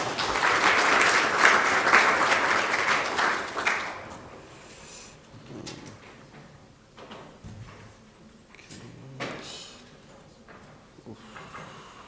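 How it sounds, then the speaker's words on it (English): An audience at a morning conference talk applauds warmly for about four seconds, then the clapping thins out, leaving scattered rustles and knocks in the room. "An applause, please."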